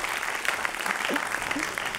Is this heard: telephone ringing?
no